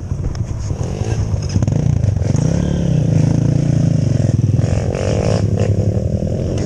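A trail motorcycle revs hard climbing a short uphill stretch, its engine loud and close, rising and holding in pitch with some clattering from the terrain.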